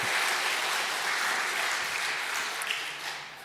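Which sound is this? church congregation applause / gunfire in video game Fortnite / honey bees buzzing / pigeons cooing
church congregation applause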